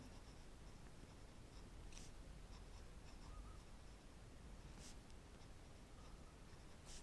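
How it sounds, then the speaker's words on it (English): Montblanc 149 fountain pen with a fine 14-karat gold nib writing on paper, a soft steady scratch with faint ticks and light rustles, close and quiet throughout. "I'm just going to give you a quick writing sample of each one."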